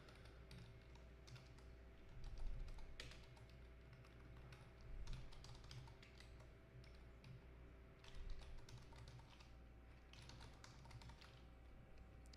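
Rapid computer keyboard typing and arrow-key presses, a steady stream of soft clicks with a few louder bursts, over a low constant background hum.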